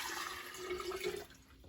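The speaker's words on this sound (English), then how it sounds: "And then I'm going to add water." Water is poured into a bottle of sprouting seeds in a kitchen, a continuous splashing gurgle that thins and fades near the end.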